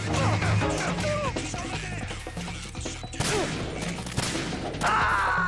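Gunshots in Metal Gear Solid 2 arrive as sharp cracks scattered among clattering game effects and sounds like groans, loud and busy throughout.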